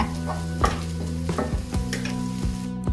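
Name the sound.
stirring egg and Savoy cabbage in a frying pan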